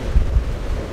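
Gusty wind buffets the microphone during bad-weather outdoor cooking on a Trangia stove, a low continuous roar with two stronger thumps in one second, no voices.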